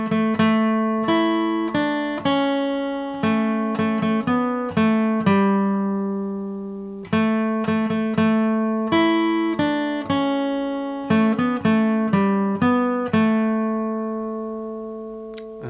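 Acoustic guitar playing the B section of the fiddle tune Old Joe Clark, clear single-note picking in a bouncy, even rhythm with ringing notes, close and alone, repeating the phrase twice.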